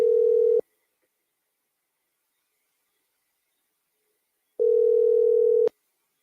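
Telephone ringing in on a live call-in show: two steady electronic ring bursts, one short and one about a second long, separated by several seconds of silence.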